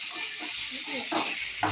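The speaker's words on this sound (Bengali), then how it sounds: "আলুটা দিয়ে দেওয়ার পর ভালো করে তেলের মধ্যে আলুগুলোকে নেড়ে নিয়ে" Potatoes stirred in hot oil in a pan while cooking raw banana curry, a steady sizzle and hiss with soft scraping stirs, close by and moderately quiet, with a voice speaking over it.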